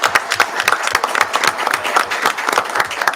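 A short, lively round of applause from the audience at a school board meeting, close and uneven with distinct individual claps over a few seconds.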